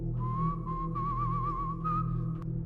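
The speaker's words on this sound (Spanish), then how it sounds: "el silbido se repetía." A single thin, wavering whistle holds one high note for a couple of seconds, quavering slightly, over a low steady droning hum.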